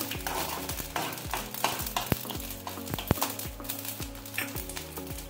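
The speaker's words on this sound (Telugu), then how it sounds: "అర స్పూన్ మెంతులు, ఒక స్పూన్ ఆవాలు త్వరగా వేయించుకోవాలి" Fenugreek and mustard seeds are dry-roasted in a pan while being stirred, giving steady scraping and rattling with light crackling. The sound is close and moderately loud, and nobody speaks.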